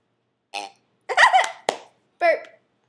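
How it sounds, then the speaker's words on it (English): A girl burps on command, four short separate belches in quick succession, close and clear against silence. "She can make herself burp."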